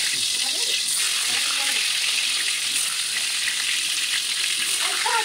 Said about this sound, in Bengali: তেলটা গরম হয়ে গেলে আমরা আলুগুলো ভেজে নেব।